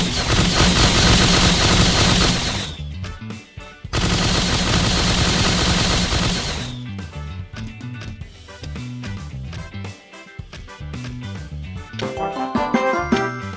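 In the Blockman Go video game, a gatling firecracker gun fires in long rapid bursts, loud and dense, broken by brief gaps, then gives way to sparser crackling pops and jingling effects.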